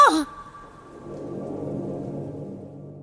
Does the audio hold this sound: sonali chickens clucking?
no